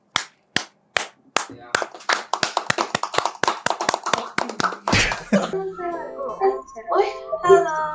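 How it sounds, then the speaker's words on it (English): Hands clap repeatedly in an uneven, spread-out patter, loud and close, then give way to a voice and other people talking over a faint background. "Just clap for your friend."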